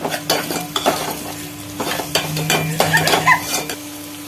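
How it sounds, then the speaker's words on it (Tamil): Onions and curry leaves sautéing in oil for a Tirunelveli-style kuzhambu, a busy sizzle with repeated close clinks and scrapes of a spoon against the pan, steady stirring throughout, no voices. "நல்லா வதங்கணும் அந்த எண்ணெயிலே கொஞ்சம் வதக்கி விட்டுக்கிடுவோம் இப்போ ஒரு ரெண்டு கொத்து கருவேப்பில போட்டுக்கலாம்"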